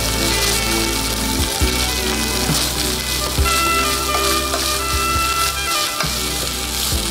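Cooked rice tossed into hot oil with pepper for fried rice sets off a loud, steady sizzle close by, with a few dull knocks of a utensil against the pan.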